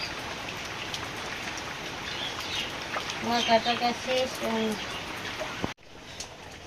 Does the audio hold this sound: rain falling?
yes